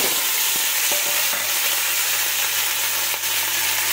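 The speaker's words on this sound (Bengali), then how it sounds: "এই যে সর্ষে টকবক করে একবারে চটচট টকবক করে বলছি বন্ধুরা, চটপট করে উঠেছে" Mustard seeds crackle and fry in hot oil with sweet potato and tomato, a close, steady hiss of sizzling with a few sharp pops, no voices.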